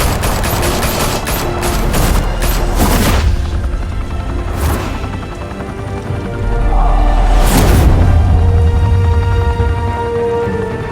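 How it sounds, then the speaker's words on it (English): Gunfire in Batman: The Telltale Series game, loud repeated bursts of shots and booms in a rapid volley, a pause, then another heavy burst, with faint voices under the mix. "Open fire!"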